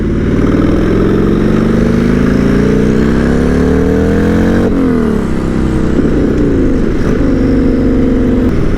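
Turbocharged Buell M2 Psiclone motorcycle cruising in fifth gear at the speed limit, a loud, continuous engine drone with steady exhaust note and wind, pitch holding fairly even before a slight dip partway through.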